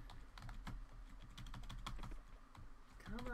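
Rapid clattering of computer keyboard keys during a Coral Island game session, a steady run of close, crisp key strikes with a brief tonal game sound near the end.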